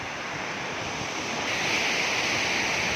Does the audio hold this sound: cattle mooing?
no